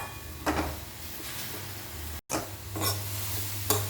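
Food dry-roasting in a pan over a low flame, with a few soft scraping stirs against the pan over a steady low background hum.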